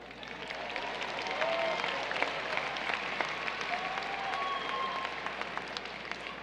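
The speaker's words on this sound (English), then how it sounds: "May we please have a round of applause to recognize these Honor Society graduates" Graduation audience applauding Honor Society graduates at Del Valle High School's 2018 ceremony, a steady wash of many hands clapping across a large venue, moderately distant and sustained throughout.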